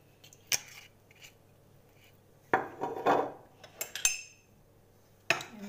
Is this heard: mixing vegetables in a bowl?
yes